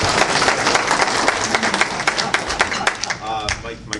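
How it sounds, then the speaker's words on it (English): Lively applause and clapping from a crowd at a gun-rights association gathering, with individual claps standing out and cheering voices mixed in as it begins to fade. "Can I get some applause?"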